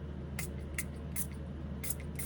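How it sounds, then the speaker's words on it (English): Hair spray misted onto a Bratz doll's hair in short bursts, five quick hissing spritzes at close range with quiet pauses between them and no voices. "I think I'm just gonna spray her a little tiny bit."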